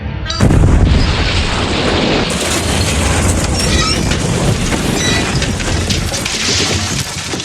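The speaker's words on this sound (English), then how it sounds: "A dozen demolition charges have destroyed this installation." Demolition charges blowing apart an installation in a Superman audio drama: a sudden loud boom that rolls into a long, dense roar of rumbling debris and crashing material, with no voices.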